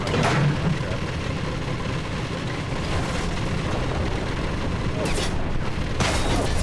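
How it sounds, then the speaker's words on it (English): Heavy machine gun fire in the video game Enlisted, a dense continuous rattle of battle noise with sharper bursts standing out near the end, loud and steady throughout. "most likely we'll just get taken out by that heavy machine gun"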